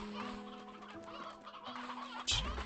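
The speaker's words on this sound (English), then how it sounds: "So many chickens." Chickens cluck in the video game Slime Rancher 2, a steady flock of soft clucks and chatter with a brief louder squawk near the end.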